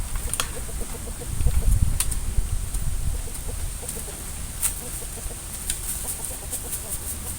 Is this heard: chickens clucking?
yes